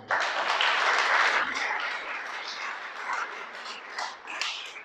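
A church congregation applauds loudly at first, the clapping gradually thinning and fading a little over several seconds.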